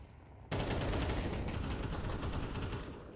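In a Counter-Strike match, a grenade bursts with a sudden loud blast, followed by a sustained roar of crackling gunfire and debris noise for a few seconds.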